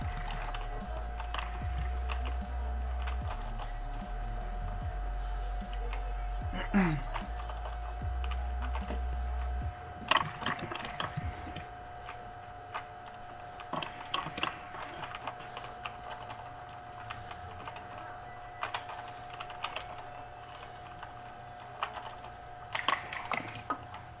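Hard, rapid typing on a computer keyboard during a Windows gaming session, with dense irregular key clatter throughout, a steady electronic hum underneath and a low drone in the first ten seconds.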